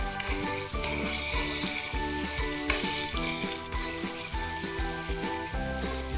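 Vegetables for a traditional Assamese banana-stem and pumpkin dish fry and get stirred in a pan, a continuous close sizzle running beneath steady background music.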